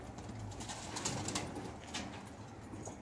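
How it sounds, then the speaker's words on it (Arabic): Pigeons take off from a loft, their soft cooing and fluttering wings heard faintly and close by, with no talk. "هاي حمامنا طالعات"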